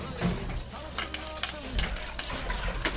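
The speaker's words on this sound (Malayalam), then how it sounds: "അതിൽ കൊത്തി കൊടുക്കുകയാണ് ഞാൻ നല്ലവണ്ണം വഴറ്റി കൊടുക്കണം" Crushed garlic, ginger, green chili and onion sautéing in hot oil in a clay pot, a steady close sizzle with occasional stirring scrapes and clinks.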